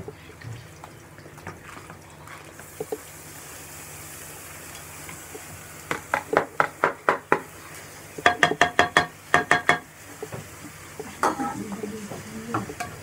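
Bulgur is stirred into sautéed onions, green onions and carrots in a pan, with a soft sizzle underneath and bursts of sharp spoon knocks against the pan in quick clusters.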